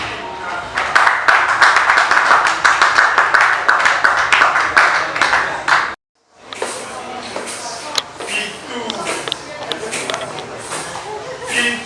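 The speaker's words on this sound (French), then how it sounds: "nous allons l'applaudir pendant qu'il va entrer" Audience at a slam poetry evening claps as the performer makes his entrance, loud fast clapping that cuts off abruptly, then lighter scattered claps and room noise resume with voices in the background.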